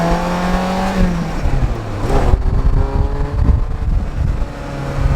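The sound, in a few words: Ferrari 348 driving, loud engine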